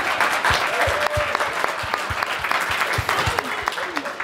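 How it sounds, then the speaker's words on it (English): An audience at an evening worship gathering for a teen retreat gives a round of applause, a steady close wash of clapping that carries through the whole moment. "Can we just give her a round of applause for a moment?"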